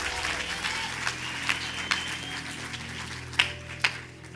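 Church congregation applauding in praise, a soft, distant patter of clapping with a few sharper claps standing out, under a low steady hum.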